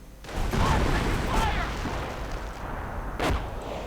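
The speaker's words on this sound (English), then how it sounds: "Bit of sector artillery damaging the engineers" Artillery shells strike engineers in a WWII strategy video game. A few heavy booms and rumbling impacts land under a spoken commentary voice.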